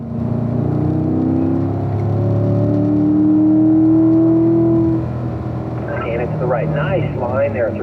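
A race car engine pulls hard on track, a loud close drone whose pitch climbs steadily under acceleration, then eases as a voice starts talking over the engine near the end.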